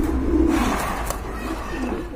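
A pair of big jet-black exhibition pigeons gives low, steady cooing close by, with a soft murmur of background noise throughout.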